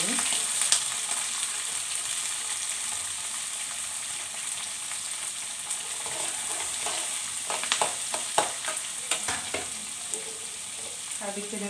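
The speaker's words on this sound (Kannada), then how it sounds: "ಚೆನ್ನಾಗಿ ಫ್ರೈ ಆಗೋದಕ್ಕೆ ಬಿಡೋಣ." Green chillies, finely chopped onions and vegetables sizzle steadily in hot oil for chitranna, a continuous crackling fry with scattered pops and stirring clicks, close and moderately loud.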